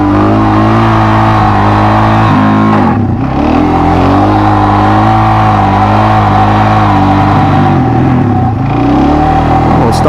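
A motorbike engine revs loudly and close during beginner wheelie practice, the pitch swelling and dipping in a couple of throttle blips before the engine bogs down and stalls.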